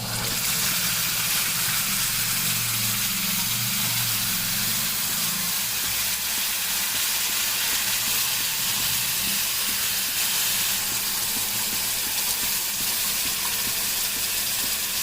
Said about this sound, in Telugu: ఇట్లా చింతపులుసు పోసుకోవాలి